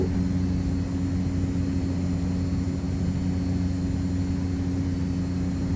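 A Cessna 208 turboprop in the X-Plane flight simulator drones loudly and steadily in the cockpit, its propeller and engine holding a constant hum with no talk.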